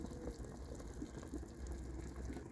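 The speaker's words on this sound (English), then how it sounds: "Just add some water," Steady rushing of water pouring into a cooking pot, a continuous broad wash with gentle splashy texture, fairly quiet and close, no voices.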